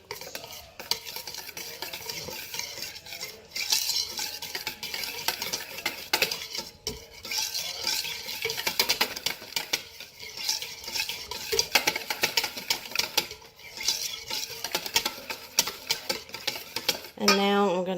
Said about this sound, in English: I'm going to give it a good mix.